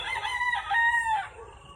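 A sweater gamefowl rooster in a backyard fly pen gives one clear, nearby cock-a-doodle-doo lasting just over a second, then quiet.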